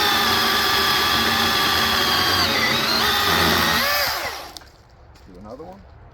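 A Milwaukee M18 Fuel battery chainsaw cuts through a 7 to 8 inch oak log, its loud, close whining buzz holding steady under load for about four seconds before the motor winds down and stops, with a brief voice afterward.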